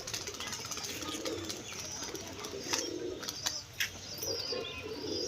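Soft, low cooing from pigeons in a home loft, faint and close, repeating in short phrases against a quiet outdoor background.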